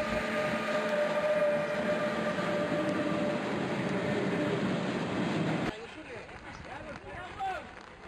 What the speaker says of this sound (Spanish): Hoy solo pasan kilométricos trenes con poco interés ferroviario para el aficionado.